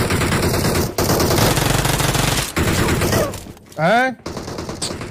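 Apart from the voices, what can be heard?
gunfire in a shooting video game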